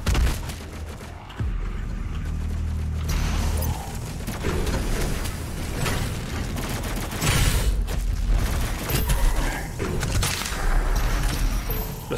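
Rapid bursts of gunfire in the video game Doom Eternal crackle almost nonstop, with heavy booms and automatic fire layered under a constant dense background.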